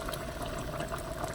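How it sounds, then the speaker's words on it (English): Water poured steadily into a pot of homemade squash soup (calabacitas), a continuous watery splashing and gurgling that stays even and fairly close for the whole moment, with no talking. "I'm going to go ahead and add my water"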